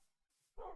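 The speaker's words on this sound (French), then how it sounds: "Ah non, c'était un chien." A single dog bark from a Minecraft Feed the Beast modded game, a short sharp burst arriving suddenly after near silence, moderately loud and alone.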